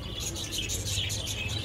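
A small chicken in a pet shop in Ipoh, Malaysia gives quick repeated high chirps in a steady rhythm over low shop background noise.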